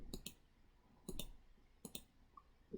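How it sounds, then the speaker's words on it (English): Three pairs of sharp mouse clicks on a computer mouse, evenly spaced apart and close up, in a quiet room with no talking. "I'm clicking in here and it's not showing up"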